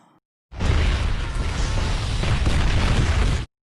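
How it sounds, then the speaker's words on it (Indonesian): General Garza's headquarters blows up in The Expendables, a sudden loud boom that swells into a sustained roaring blast and rumble for about three seconds before cutting off abruptly. "Kemudian Barney meledakkan markas Jenderal Garza."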